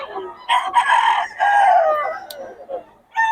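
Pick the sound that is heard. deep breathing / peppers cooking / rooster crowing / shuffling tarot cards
rooster crowing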